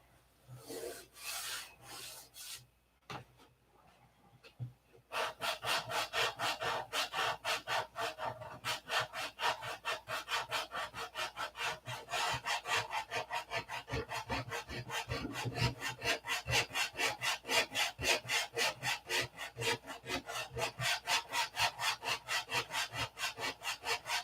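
Doped wood fillets being sanded by hand, a steady close back-and-forth scraping rhythm that starts after a few seconds of lighter rubbing and continues loud and unbroken, with no talk.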